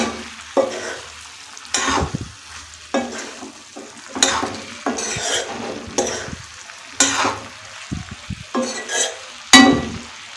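Cauliflower side dish being stirred in a pan, with a spoon scraping in repeated strokes over a soft sizzle of frying, the stirring coming in bursts every second or so, close and clear with no talk.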